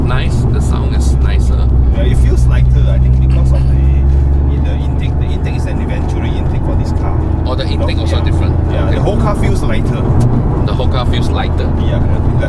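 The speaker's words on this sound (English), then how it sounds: "Yeah, the exhaust note is definitely different." Toyota GR Yaris with a titanium aftermarket exhaust rumbles steadily from inside the cabin, a low droning engine note with rising revs, while occupants talk over it.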